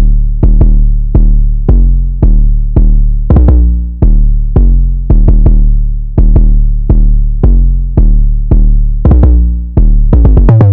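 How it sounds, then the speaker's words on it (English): A hard 808 bass pattern from a dark trap beat: loud, booming sub-bass notes that thump one after another in a syncopated rhythm, each note ringing out and decaying before the next, switching between higher and lower pitches. "Then I went with this hard 808."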